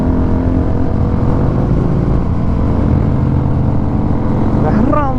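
A fully modified motorcycle exhaust roars in a dense, continuous low drone at close range on an early morning ride, with the engine revving up near the end.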